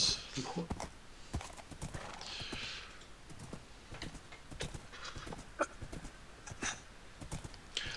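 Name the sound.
horse hooves and whinny in Minecraft Gregtech New Horizons video game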